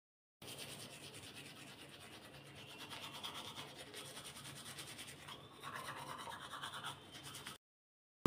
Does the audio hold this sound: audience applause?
no